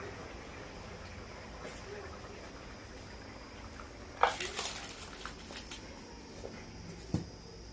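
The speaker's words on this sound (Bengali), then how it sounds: "আমি এই কড়াই থেকে তরকারিটা নামিয়ে নেবো" Curry (sukto) being scooped out of a kadai, with a loud metallic scrape and clatter of a spoon against the pan midway, then softer scraping taps and a final knock over a quiet kitchen background.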